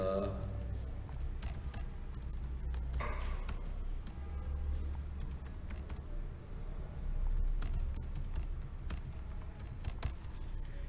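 Computer keyboard keys clicked in quick irregular bursts while typing a phone number for an online ad setup, with a steady low room hum and some faint talk underneath.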